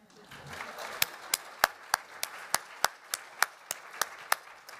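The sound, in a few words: audience clapping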